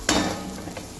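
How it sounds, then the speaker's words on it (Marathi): Masala frying in oil for a Dok fish curry, a short burst of sizzling with a scrape of stirring at the start, close up and with no voices. "आता मसाला छान तळून झाला आहे"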